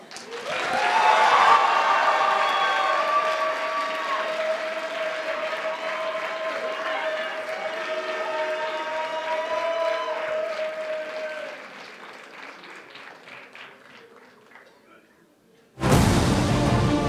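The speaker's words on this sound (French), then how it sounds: "sous un tonnerre d'applaudissements." Audience applause at a group cosplay contest, a broad wash of clapping that fills most of the stretch, with tonal music sounding beneath it, then fades before a sudden loud burst near the end.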